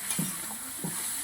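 Spices sizzle and fry in hot oil in a pan for a Bengali bhola fish curry, a soft steady crackle with two brief stirring scrapes, fairly quiet and with no voices.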